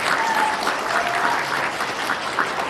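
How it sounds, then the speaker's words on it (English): A round of applause at a podcast gathering, steady dense clapping from a small crowd lasting a few seconds, fairly close and without talk. "Round of applause for that."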